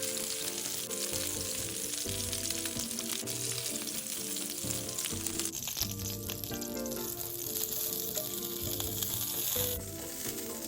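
Food pan-frying in hot oil until both sides turn lightly browned, a steady, close, continuous sizzle and crackle with faint tonal sounds running underneath throughout.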